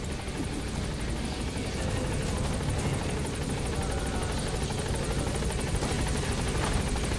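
Helicopter in Metal Gear Solid V: The Phantom Pain, a steady whirring rotor drone with dense engine rumble, loud and continuous throughout with no pauses.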